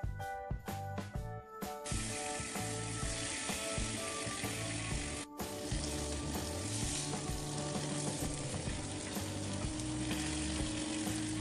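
Tandoori chicken fries in a pan with a loud, continuous close sizzle, preceded by a few clacks and scrapes as the pieces are turned and pressed.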